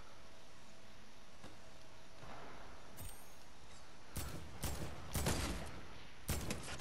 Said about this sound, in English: I hear him shooting over here.